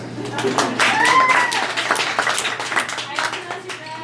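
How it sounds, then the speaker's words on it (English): A comedy club audience breaks into scattered clapping at a stand-up show, a brief patter of hands that swells and fades while voices and laughter mix in. "Clap if you noticed."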